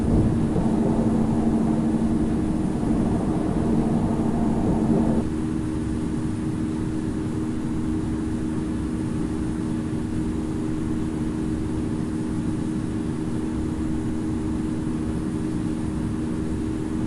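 An airliner in the Infinite Flight simulator game rolls down the runway and lifts off with a steady, loud engine drone that drops to a lower, even hum partway through, with no voices.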